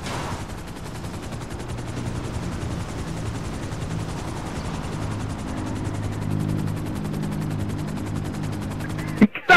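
Helicopter in GTA V Online, a steady rapid rotor chop with engine whine holding loud and close for several seconds before cutting off.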